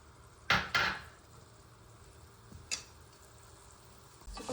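Spices roasting in a spoonful or two of oil in a pan for eggplant sambar: a faint background sizzle broken by a few sharp utensil scrapes and knocks against the pan.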